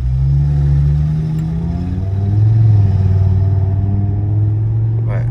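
An Audi RS3 engine revs close by, with a deep, steady drone that swells in a strong rise midway before settling back down, and voices talk over it.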